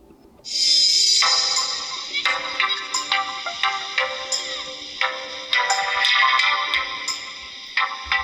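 A notification tone previewed on a CAT S40 phone rings out: a bright electronic chime followed by a run of short, evenly spaced ticking beeps, clear and close with no talking.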